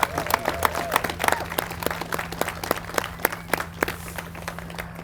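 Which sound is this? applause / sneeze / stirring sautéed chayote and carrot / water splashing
applause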